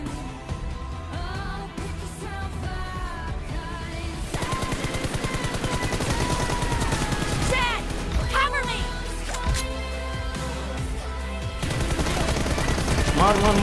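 Rapid automatic gunfire crackles in a team deathmatch mobile shooter game, bursts coming densely and continuously from near and far, with excited talking over the shooting.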